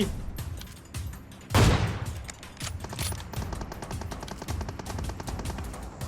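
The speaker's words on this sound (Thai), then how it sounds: "มีคนยิงอะไรแปะแปะแป มันปืนใบสันละใช่ไหม เนี่ยเขายิงกันอีกแล้ว" Bursts of gunfire from PUBG Mobile, a rapid rattling volley with a loud blast near the start and continued popping shots throughout, dense and fairly close over game ambience.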